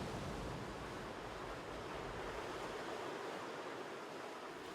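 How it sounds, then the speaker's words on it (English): Powerful ocean waves crash against volcanic rocks on the Galapagos shore, a loud, continuous roar of surf and spray with no voices. "Powerful waves are their greatest trial."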